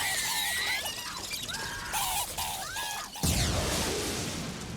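High, squeaky chirps in quick bursts, pitched-up chicken clucks that sound rat-like, from an Indiana Jones film soundtrack, followed by a loud crash of rumbling noise.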